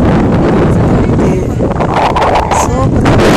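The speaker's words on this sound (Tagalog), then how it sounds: "Sobrang lakas ng hangin." Strong coastal wind buffets the microphone at the Kapurpurawan stone formation in Ilocos Norte, a loud, continuous roar with gusty surges throughout.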